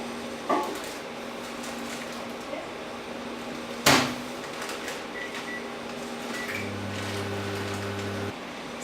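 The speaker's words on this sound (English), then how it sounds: "I'm just going to put it in the microwave" A microwave oven, loaded with a forage sample to dry it, is shut with a sharp knock of its door. After a short pause it starts up with a steady, low electric hum that runs for a couple of seconds.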